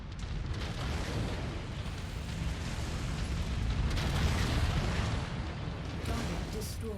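A mech target explodes in MechWarrior 5: Mercenaries, heard as a dense, continuous roar of blasts and rumbling booms that stays loud throughout, with a brief bright crack near the end.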